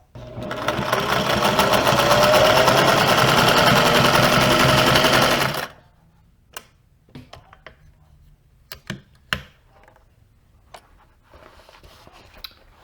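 A Singer 401 sewing machine runs a test after a hook tip repair, a loud steady mechanical whir for about five seconds that then stops, followed by scattered faint clicks and handling knocks.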